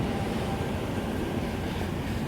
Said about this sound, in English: Sorry about this noise. It's a train